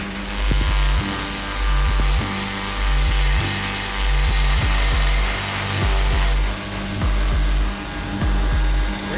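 A MagnaCut steel cleaver being ground and sharpened on a power grinder, a loud continuous motor whine with rhythmic rasping strokes repeating about every second as the blade is passed back and forth, close up.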